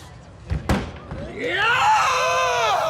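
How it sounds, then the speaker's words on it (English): A man screams loudly, a rising, sustained yell lasting over a second, as he lands on a platform at a ninja-warrior-style obstacle course, after a couple of sharp thuds from the landing. "Screaming his way onto the platform"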